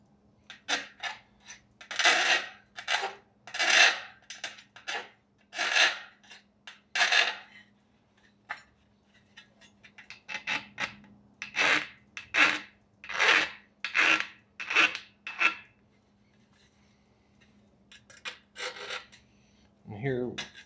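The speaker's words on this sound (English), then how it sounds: "just come in with the flat file, just gently clean that sharp edge up." Flat hand file deburring the sharp edge of an aluminium tail rib for a Zenith CH 650 kit aircraft, a run of close, rhythmic rasping strokes in two bursts separated by a quiet pause.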